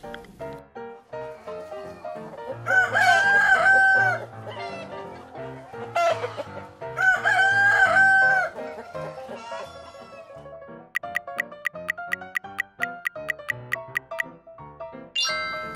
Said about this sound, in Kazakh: Дұрыс, әтеш.